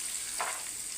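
Cumin seeds, black pepper and dried red chilies frying in hot oil for saada pongal, a faint, steady sizzle with one brief swell of crackle partway through.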